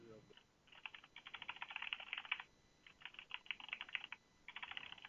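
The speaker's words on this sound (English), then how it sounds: "Are you typing all this down?" Quick keystrokes on a computer keyboard clatter in steady bursts with brief pauses between them. The typing is close and fairly quiet against a faint background hiss.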